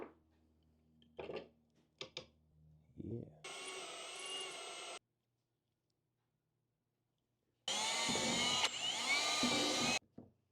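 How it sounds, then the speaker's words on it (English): A power drill whines loudly in two sustained runs separated by a pause, drilling holes in a sled, with a few short knocks and handling sounds before. "I'm going to drill the holes in this"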